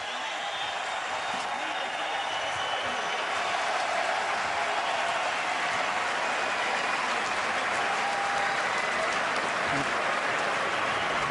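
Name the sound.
crowd applauding at a fight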